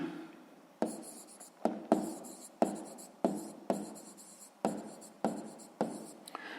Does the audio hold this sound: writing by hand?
yes